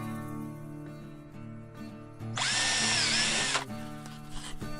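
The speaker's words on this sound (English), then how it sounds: "I'm going to put quite a few holes here so we have enough screws to hold the weight" A power drill bores holes into wooden boards while building a deer feed block holder, giving one loud, sustained whine mid-clip with a slight rise and fall in pitch, framed by quieter workshop background.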